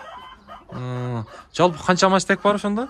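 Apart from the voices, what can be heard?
Adler breed chickens and roosters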